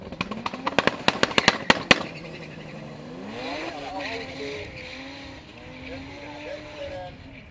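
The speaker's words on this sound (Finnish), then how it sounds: "Komeat paukkeet. Tulinkarroja." BMW cars at a quarter-mile drag racing event fire off a rapid string of loud, sharp backfire bangs, then engines rev and rise in pitch, with an announcer talking over the roar.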